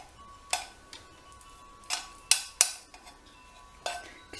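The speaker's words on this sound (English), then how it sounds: "I'm just going to use my spatula and scrape out the excess" A spatula scrapes excess chocolate from a parchment-lined tin, giving several sharp, close scraping and tapping strokes spaced irregularly with quiet gaps between, no talking.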